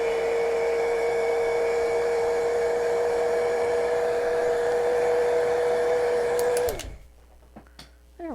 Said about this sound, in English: I'm just going to dry this real quick.